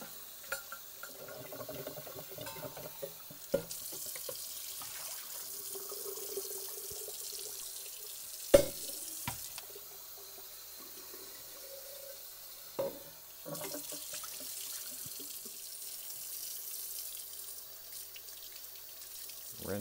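Tap water runs steadily while coffee-making equipment is rinsed at a sink, a continuous wash of flow broken by a few sharp clinks and knocks, with no talking.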